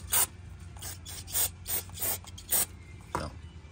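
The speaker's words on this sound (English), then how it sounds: "we cleaned this up with some laundry dryer sheets and brake clean" Truck brake parts from a 2002 Ford F-250 rear brake job are scrubbed with laundry dryer sheets and brake cleaner, giving about seven rasping rubbing strokes in an uneven rhythm, close up with no talk.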